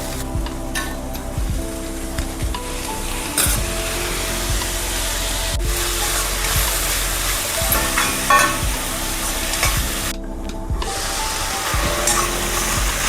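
Tomato pieces frying in a pan with capsicum for a potato snack recipe: a continuous loud sizzle broken by repeated scraping and knocking of a spoon stirring against the pan.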